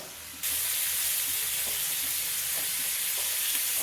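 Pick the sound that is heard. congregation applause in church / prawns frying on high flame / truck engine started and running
prawns frying on high flame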